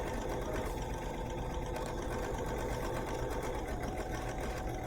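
A BERNINA sewing machine runs continuously while stitching fabric, giving an even, fast mechanical whir and needle patter at moderate level throughout, with no voices.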